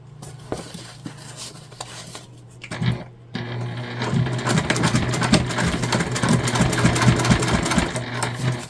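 A sewing machine runs a line of top stitching along the edge of a fabric tote bag, a steady close whirring chatter starting after a brief pause and continuing loud to the end.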